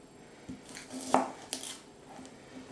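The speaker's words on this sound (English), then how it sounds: "I just want to thinly slice them and peel the shallots" A knife slicing washed mushrooms thinly on a board, a few separate soft knocks and cuts spaced about half a second apart, close and fairly quiet, with one sharper clack and no talking.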